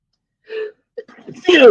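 A person sneezes close to the mic during a live chat between resellers; a short voiced breath comes first, then a loud, sharp burst of noise at the end.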